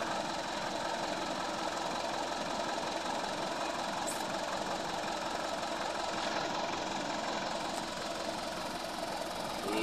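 Mitsubishi Canter Elf truck with a 4M50 engine suffering low power, idling at a steady rough drone with a faint knocking rhythm, continuous and close throughout.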